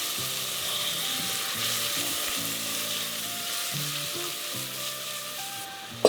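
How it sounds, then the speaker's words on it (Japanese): Chopped vegetables sauté in about three tablespoons of oil over medium heat, a steady, close sizzle that runs unbroken for several seconds and ends with a brief clatter. "中火で全体がしんなりとしてこう透き通った感じになるぐらいまで炒めていきます。"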